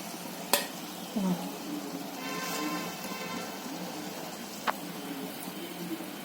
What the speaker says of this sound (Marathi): आता ना गाजराचा हलवा काढून घेते